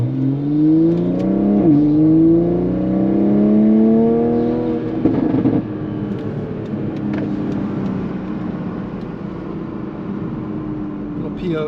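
A Toyota Supra's engine drones and rises in pitch as it accelerates and revs while driving, with a brief burst around the middle and steady road noise after, loud and close.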